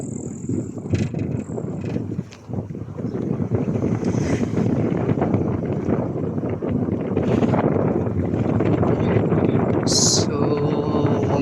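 Wind buffets the microphone in a continuous rushing roar, with faint higher chirps and clicks breaking through now and then.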